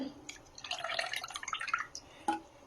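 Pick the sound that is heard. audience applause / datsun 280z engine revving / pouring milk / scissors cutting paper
pouring milk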